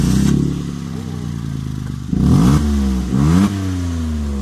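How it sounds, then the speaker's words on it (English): A turbocharged car engine with a broken turbo idles with a steady low rumble, then revs up twice in quick surges before settling back to idle. "Just listen to the engine purr."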